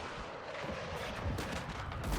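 Dense, continuous rumbling blasts of airstrike bombs from three planes overlapping one another in Warzone 2.0, loud and boomy like a barrage of bombs hitting.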